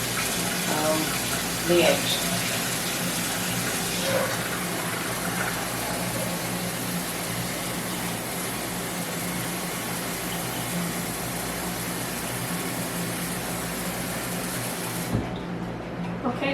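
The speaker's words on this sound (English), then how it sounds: "I'm going to add cold water to it" Steady rush of running water filling a pot under continuous flow, with a brief spoken word partway through.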